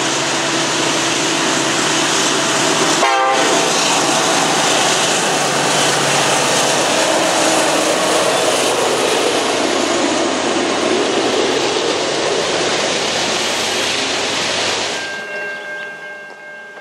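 Norfolk Southern loaded coal train NS-S24 heading east through the Huger Twin Tunnels on the Pocahontas line, a loud continuous rumble of locomotives and cars passing close, with a brief horn-like burst early on and the sound dropping off sharply at the end.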